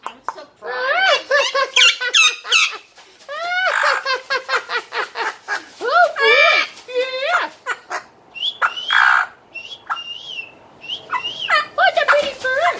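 A pet bird squawks and calls in a long run of loud, close, warbling cries and sharp squeaks with short pauses, while a person speaks briefly between the calls.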